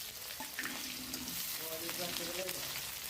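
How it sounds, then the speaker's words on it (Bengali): Chopped onions, about one and a half cups, frying in a pan for a country duck curry, a steady close sizzle with faint stirring and soft voice-like tones underneath. "পেঁয়াজগুলো দিয়ে একটু ব্রাউন করে ভেজে নেব।"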